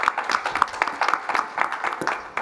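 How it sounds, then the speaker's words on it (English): Audience applause at an African oil and gas industry conference session, a steady patter of many hands clapping with a moderately dense, even rhythm throughout. "Clap."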